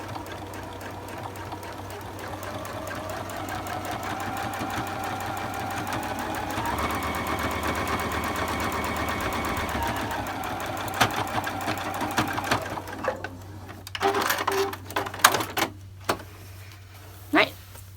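A sewing machine stitches a fabric heating bag filled with rice, running as a steady, close whir for about thirteen seconds before stopping. Scattered knocks and handling noises follow, with a voice talking over it.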